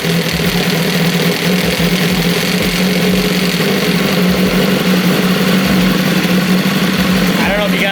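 Loud, steady engine rumble from a BMW S1000RR sport motorcycle fitted with a clear clutch cover, close up, running continuously with a low throbbing hum and a faint voice under the noise.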